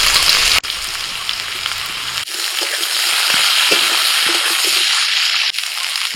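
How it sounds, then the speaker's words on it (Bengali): Chopped onion goes into hot oil with frying potatoes and beans, and a continuous sizzle carries on, briefly dipping and shifting as the onion lands, then settling into a steady hiss. "আলু আর বিন কলাই ভাজা হয়ে গেলে দিয়ে দিচ্ছি পেঁয়াজ কুচি"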